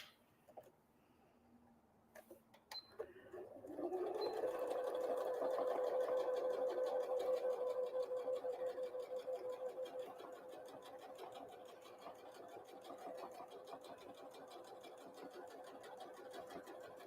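A sewing machine top stitches around a Christmas tree napkin. A few quiet clicks come first, then a close, steady, continuous whir runs to the end with no talking.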